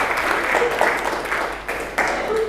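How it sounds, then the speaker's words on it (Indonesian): A schoolroom class of students applauding together, a dense burst of clapping close by that swells and fades in waves with a voice in between. "Kasih aplaus buat antum semuanya"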